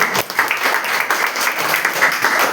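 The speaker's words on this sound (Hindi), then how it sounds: "क्या बात है, जोरदार ताली होनी चाहिए।" Loud audience applause at a seminar or motivational talk, dense continuous clapping filling the short stretch without any speech.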